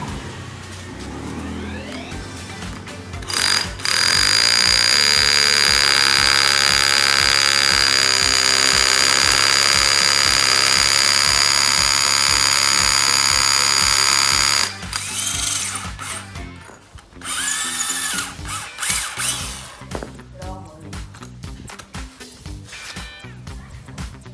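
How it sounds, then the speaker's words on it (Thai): A Makita HR140D 12V cordless rotary hammer drilling concrete with a 6 mm bit: a loud, steady hammering rattle for about eleven seconds, then shorter bursts and handling clatter. "ดอกเบอร์6 6มิลลองเจาะปูนดูนะครับ"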